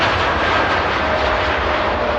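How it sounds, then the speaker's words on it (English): A TUI Dreamliner roars on its takeoff roll at Manchester Airport, a broad, steady jet-engine rumble filling the short stretch without pause. "There we go, TUI Dreamliner next to go on the roll."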